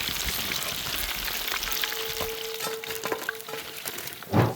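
Pieces of parrot fish fry in hot oil for a biryani, giving a close, steady crackling sizzle with scattered pops and a brief louder burst of bubbling near the end.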